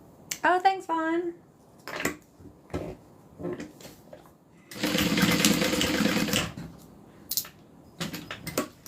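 A sewing machine stitches a zipper onto a vinyl crossbody bag in one steady, close run lasting about two seconds, with short handling knocks and bits of talk before and after.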